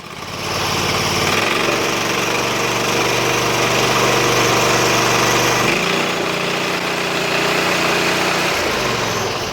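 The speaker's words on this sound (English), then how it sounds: "Give her a little bit of throttle, see if she sputters." A 20 HP Briggs & Stratton V-twin engine on a Sears loader runs loudly and steadily, its pitch rising as the throttle opens then dropping back toward an idle.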